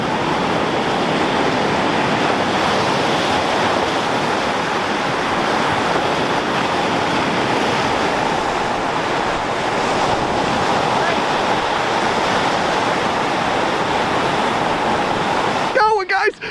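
Rough waves on Lake Superior during a winter storm, a continuous loud roar of surf mixed with heavy wind buffeting the microphone, unbroken throughout with a brief disturbance at the very end.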